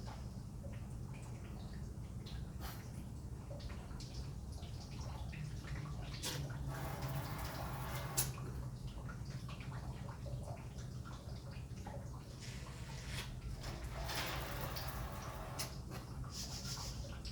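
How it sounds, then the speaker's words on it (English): Water is poured and decanted off settled fine aggregate in a lab container, giving a faint, continuous trickling and splashing with occasional louder gurgles and drips over a steady background. "Once the fines have settled, decant the water."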